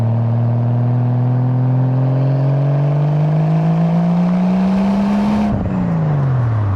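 A Toyota MK3 Supra Turbo engine pulls hard through one long, steady rise in revs, loud and close, then cuts off and drops away at a gear change.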